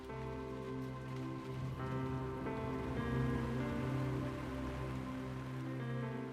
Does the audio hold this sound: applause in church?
no